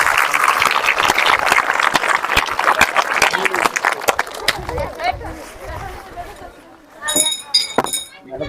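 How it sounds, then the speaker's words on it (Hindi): Children clapping together for a group of young girls at a school yoga event, a broad dense burst of applause that fades after about five seconds, followed by scattered movement and an adult talking. "इन बच्चियों के लिए एक बार जोर से सभी बच्चे ताली बजाइए।"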